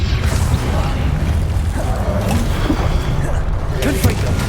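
An Expelliarmus spell is cast during combat in the Forbidden Forest in Hogwarts Legacy, heard as a dense, loud rush of magical whooshes and impacts over continuous battle noise.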